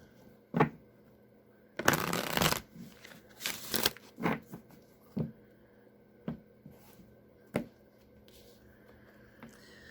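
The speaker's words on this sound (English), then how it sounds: "I'm going to do one more shuffle." Tarot cards being shuffled in a few quick riffling bursts, interspersed with soft taps and clicks of a deck being squared, close and fairly quiet.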